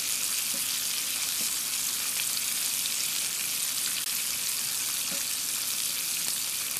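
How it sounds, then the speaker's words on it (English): Onions frying in a hot pan give a steady, loud broadband sizzle, with a few faint spatula taps and scrapes scattered through it. "I'm going to get spatula to stir up our onions"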